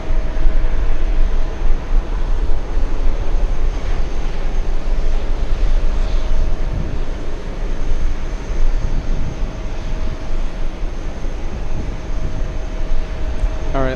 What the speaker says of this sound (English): last few seconds of the Swiss machine as it crosses the runway